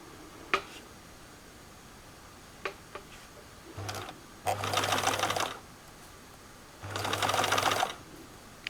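A home sewing machine stitching jumpsuit fabric, heard as two bursts of rapid mechanical whirring, each about a second long and separated by a pause, with scattered light ticks and clicks between them and no talk.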